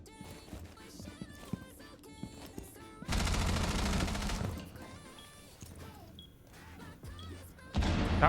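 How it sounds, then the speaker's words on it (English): Valkyrie's gunfire in a video game erupts in a loud sustained automatic burst after a stretch of quieter game sounds and chimes, then a second burst starts at the end. "Valkyrie shooting at everyone's a little scary for me"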